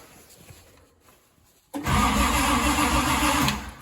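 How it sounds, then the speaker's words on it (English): A Datsun 240Z, fenders off for electrical testing, is quiet at first with faint clicks, then the engine cranks abruptly into a loud, steady whirring churn that continues to the end. "Let's see if we can see if the engine cranks."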